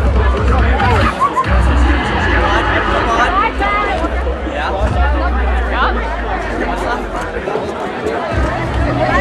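Dense crowd chatter at a winter promenade, many overlapping voices blending into a steady, close hubbub with occasional louder calls and thumps throughout.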